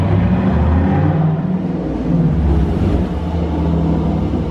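A Holden-built Chevy SS sedan fitted with six-piston Brembo brakes pulls away on a test drive, its engine a loud, steady low rumble heard close up with no talking.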